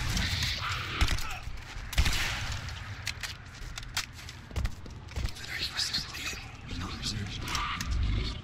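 Shotgun fire in the video game Legendary rings out as scattered sharp bangs under steady game noise and muffled movement, with a voice talking over the shots.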